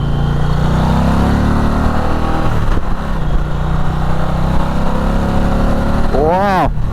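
An Indian Challenger motorcycle engine runs loud and steady close by, its note climbing as it revs up toward the end, with no one talking.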